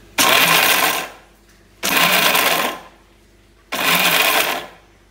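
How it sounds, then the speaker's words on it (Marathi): A mixer grinder blends peanut chutney ingredients in its jar, running in three loud whirring bursts of about a second each with short pauses between them. "मिक्सरच्या भांड्यात घालून"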